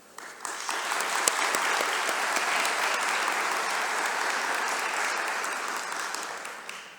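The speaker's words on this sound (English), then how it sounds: "Please join me in a warm round of applause for these individuals" Sustained audience applause at a medical college White Coat Ceremony, a dense steady clatter of many hands rising quickly, holding evenly for several seconds and then tapering off, with no talking over it.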